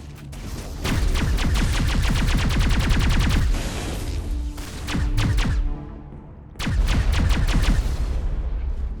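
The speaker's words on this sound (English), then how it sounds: "Is that Rex shooting" Sustained rapid automatic gunfire in a Mass Effect battle on Virmire, dense loud bursts of rattling shots that pause briefly and resume.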